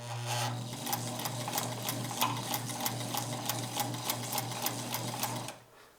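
A Kenmore sewing machine sews a wide zigzag stitch after a hook timing repair, running in a fast, even mechanical rhythm over a steady motor hum, loud and close, then stopping just before the end.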